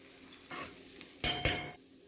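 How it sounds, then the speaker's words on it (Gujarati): Spoon or spatula scraping a pan as cooked okra shaak is gently mixed, with a few short, fairly close bursts of stirring and clinking separated by quiet pauses; no talking. "હવે આપણે હળવા હાથે જ બધું મિક્સ કરવાનું છે"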